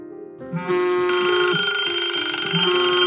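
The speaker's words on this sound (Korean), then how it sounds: "그 남자의 협박 전화는 계속됐어요." A telephone rings, its bright electronic tone repeating steadily and loud against a quiet room, with no voices present.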